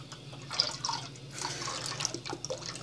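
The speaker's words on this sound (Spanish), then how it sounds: "Ahora voy a ponerle la leche evaporada." Evaporated milk poured from a can into a coconut milk and coconut cream mixture for Dominican arepa, a soft, steady liquid trickle with small splashy drips, close and fairly quiet with no talking.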